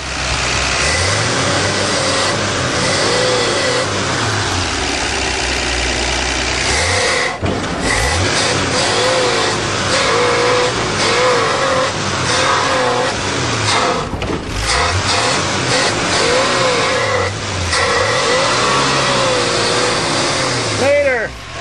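A 1977 Dodge van engine cranks and runs, its mid-pitched motor revving loudly and steadily throughout with rising and falling surges, voices talking over it.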